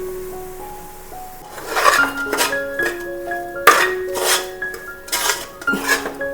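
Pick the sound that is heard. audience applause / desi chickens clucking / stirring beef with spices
stirring beef with spices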